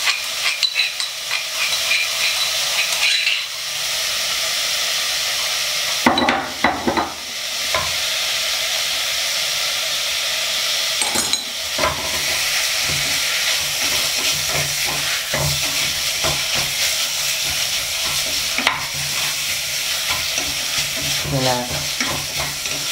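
Beef stir-fried with curry paste and soaked dried chili in a hot pan, a steady loud sizzle and hiss with intermittent scraping stirs, close up, someone speaking briefly over it.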